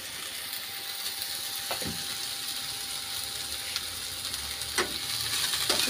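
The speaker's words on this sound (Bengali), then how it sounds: "পেঁয়াজটা একটু ভাজা ভাজা হবে।" Onions frying in oil in a wok for a mushroom and potato dish; a steady soft sizzle with occasional scraping stirs of a utensil against the pan, fairly quiet.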